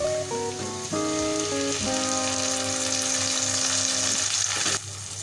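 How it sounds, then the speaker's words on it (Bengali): Onions fry in oil in a pan for a rui fish curry, a steady dense sizzle up close with a constant tonal hum underneath and no talking. "পেঁয়াজটাকে আমি ভালোভাবে ভেজে নেব, হালকা ব্রাউন কালার করে নেব, বেশি একটা ভাজবো না।"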